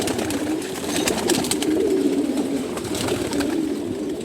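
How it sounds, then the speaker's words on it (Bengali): Male racing pigeons in a loft coo continuously, a dense, low, rolling murmur of overlapping calls at close range. "দেখেন এগুলো হচ্ছে সবাই নর কবুতর"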